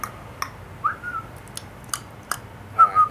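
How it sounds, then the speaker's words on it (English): A person whistles a few short, high tones among soft clicks and mouth noises, with two brief whistled notes near the end. "We gotta put a whistle in there."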